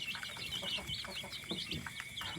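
Chicks and young turkey poults in a brooder give off rapid, overlapping high peeps and chirps, a busy close-up chatter that continues without pause.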